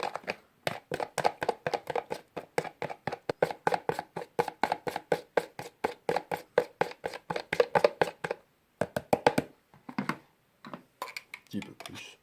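A salad dressing seasoned with salt and pepper being whisked briskly in a bowl, giving a fast, steady run of close clicking strokes that loosen into sparser taps near the end.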